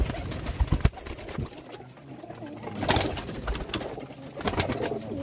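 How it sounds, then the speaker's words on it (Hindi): Pigeons coo at a breeder's loft, several soft low calls rising and falling over about five seconds among rustling and shuffling, with clear bursts near the middle and the end. "देखो कबूतर ज़रा बैठे"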